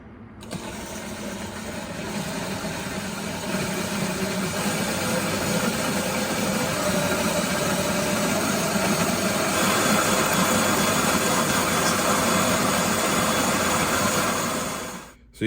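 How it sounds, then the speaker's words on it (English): An electric drill driving a grain mill grinder, a steady loud whirring motor drone with grinding rattle that runs continuously for the whole stretch, close up and alone. "I have my drill hooked up to my grinder"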